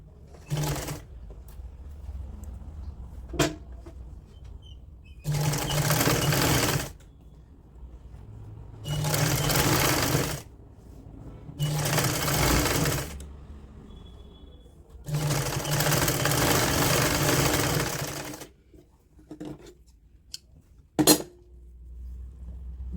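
A sewing machine stitches a woolen kurti in five separate loud bursts of rapid whirring, with quiet pauses, small clicks and handling noises between runs.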